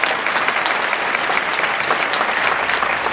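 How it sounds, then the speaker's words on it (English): Brief burst of dense crowd applause at a community event, steady and fairly loud from start to finish with no speech. "So give them a round of applause."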